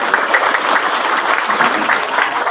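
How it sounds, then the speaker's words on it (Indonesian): A crowd claps steadily at an Islamic religious gathering, a dense, even wash of applause with no voices standing out. "Tepuk tangan dulu lah."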